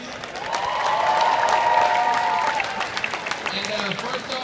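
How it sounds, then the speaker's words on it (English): A crowd at a university spirit rally applauds, with cheering mixed in; clapping builds quickly and holds steady under a loud, bright wash of voices, and a voice cuts through near the end. "Everybody give Cal Spirit a round of applause,"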